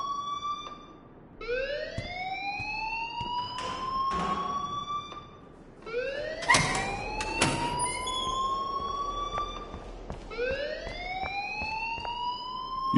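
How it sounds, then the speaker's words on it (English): An alarm in a video game wails in repeated rising siren sweeps, loud and continuous, with brief pauses between cycles and no talking. "please turn off that alarm since that's your job"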